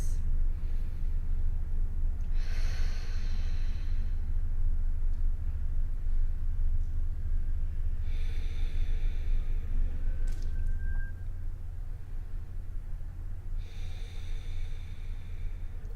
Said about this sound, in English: We're going to stay here for 10 deep breaths.